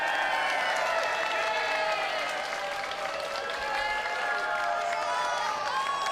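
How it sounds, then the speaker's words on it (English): Crowd at a live destructive robot fighting event cheering and clapping in a big arena, a constant roar with shrill whistles and shouts rising over it, full and loud throughout. "Crowd getting pumped up."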